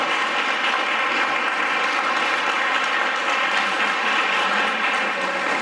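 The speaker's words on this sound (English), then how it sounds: "Let's give a round of applause for all the candidates" An audience at a Precinct 3 candidate forum applauds the candidates, a dense, even wash of clapping that holds steady throughout with no voices on top.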